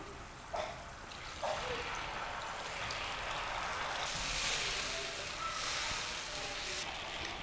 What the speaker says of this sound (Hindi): अब हम इसको इस गुड़ और शीरे के साथ शामिल कर लेंगे